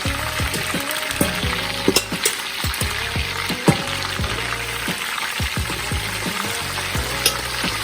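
Chicken pieces for Jamaican brown stew chicken fry in a pan with a steady, close crackling sizzle, punctuated by scattered louder pops and occasional clinks, with no talking.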